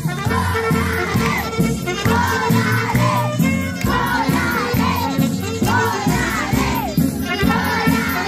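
A large crowd at a party shouts and chants loudly together, voices rising in repeated bursts over a rhythmic beat in the background.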